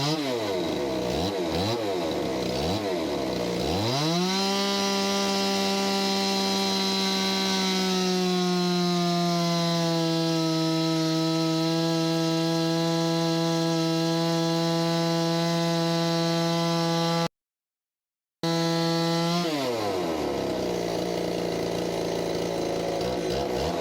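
Ported Stihl 026 chainsaw revving up and holding a steady high-pitched whine at wide-open throttle during a heat run. A short dropout breaks the sound near the end, and then the saw resumes at full speed, loud and close.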